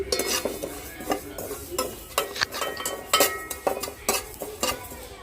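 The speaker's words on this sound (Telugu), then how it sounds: "నేను రెండు స్పూన్ల నువ్వులు తీసుకున్నానండి వాటిని దూరగా వేయింపుకుంటున్నాను" Sesame seeds dry roasting in a pan for vankaya masala, with a busy run of quick scraping stirs and light clinks of a spoon on the pan over a soft crackle, close and fairly rhythmic.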